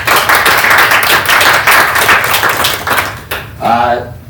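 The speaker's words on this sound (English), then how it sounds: "a round of applause for Scott Katniss and his service to our community" A round of applause from a council meeting, loud, close clapping by a small group that fades out toward the end, and a voice begins speaking right after it.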